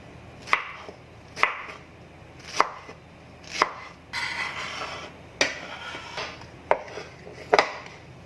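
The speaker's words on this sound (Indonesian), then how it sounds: "Setelah memotong bahan-bahan untuk topping" A knife chops enoki mushrooms and other pizza topping ingredients on a cutting board, giving sharp, evenly spaced thuds about once a second, close and clear with no talking.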